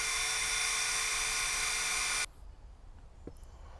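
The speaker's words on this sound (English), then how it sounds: "drilling, pre-drilling the holes for the bolts" Power drill pre-drilling bolt holes while mounting a garden hose reel outdoors, a loud continuous high whine for about two seconds that stops abruptly, followed by quiet background.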